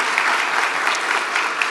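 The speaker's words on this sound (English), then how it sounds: "please a big applause for our panelists today" The audience at a policy and investment panel session on nature gives the panelists a round of applause, dense, even clapping from many hands, moderately loud and continuous.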